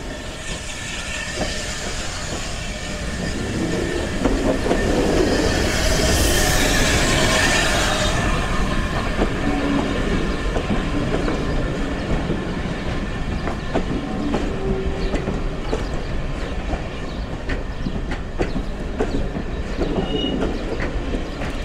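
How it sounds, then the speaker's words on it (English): A steam train arriving at a heritage railway station rumbles steadily with hissing and clattering wheels, a sustained mechanical roar that swells briefly with a bright hiss before settling into rolling clatter. "the inbound train is just about to arrive"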